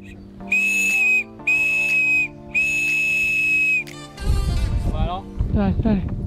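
Three long, shrill whistle blasts ring out in a row outdoors to call back a trained hawk, followed by wind noise and people talking.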